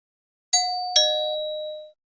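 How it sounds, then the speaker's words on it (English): A two-tone doorbell rings once, a clear bright ding followed quickly by a longer dong that rings out and fades, close and loud with no talking. "That was my doorbell."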